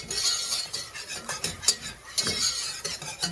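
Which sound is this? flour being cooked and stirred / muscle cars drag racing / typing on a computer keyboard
flour being cooked and stirred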